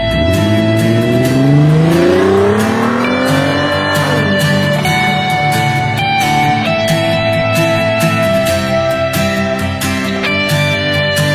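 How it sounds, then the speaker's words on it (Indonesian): A car speeds along a toll road between Jakarta and Sentul, its engine revving up through the gears with a rising whine and a constant loud road and wind roar, close and with no talking. "saya mau coba agak kencang ngebut supaya bisa langsung capai"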